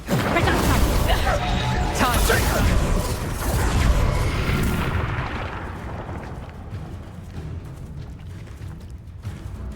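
An Incendio fire spell cast in Hogwarts Legacy erupts as a loud, roaring burst of crackling flame and explosive rumble, sustained for several seconds before fading into a quieter, low ambient tail.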